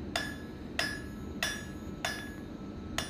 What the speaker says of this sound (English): switch back to my bigger hammer